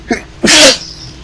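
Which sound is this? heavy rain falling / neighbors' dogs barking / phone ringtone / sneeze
sneeze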